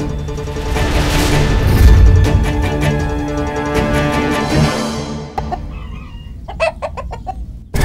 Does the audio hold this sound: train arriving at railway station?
no